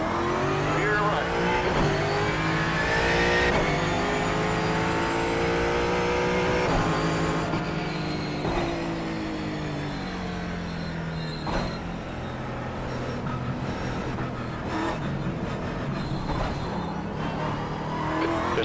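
Race car engines in the iRacing sim roar and rev with rising and falling pitch through gear changes, with tire squeal mixed in, while a voice talks over the steady, loud engine noise.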